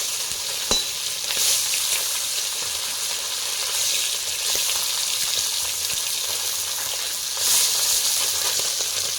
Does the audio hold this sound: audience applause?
no